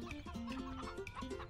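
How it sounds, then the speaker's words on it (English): Chickens clucking in the farming video game Farming Simulator 2017, a close run of short, choppy hen clucks and warbling calls repeating in an uneven rhythm with no talk over them. "I want to take a look at the chickens."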